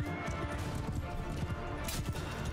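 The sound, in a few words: horses galloping in video game Mount & Blade II: Bannerlord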